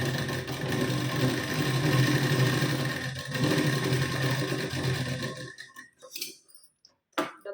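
A sewing machine stitches a blouse shoulder seam with a half-inch seam allowance, running as a loud, steady whirring hum for about five seconds before it stops, leaving a few faint clicks and handling sounds.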